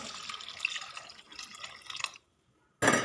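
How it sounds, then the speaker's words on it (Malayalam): Tamarind water poured into a fish curry in a clay pot, a faint close trickle and splash for about two seconds, a brief pause, then a sudden louder splash at the end. "നമുക്കിതിലേക്ക് ഇതാ പുളിവെള്ളം ഒഴിച്ച് കൊടുക്കാം"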